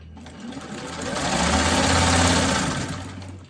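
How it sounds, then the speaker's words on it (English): Sewing machine stitching quilt scrap pieces diagonally from corner to corner, a steady close whirring motor run that swells in the middle and eases off, with no talk. "I'm going to sew from diagonal to diagonal again."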